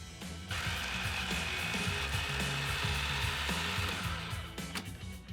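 A food processor runs steadily, whirring and chopping a meatball mixture with Parmesan cheese, loud and continuous for several seconds after a brief quieter start.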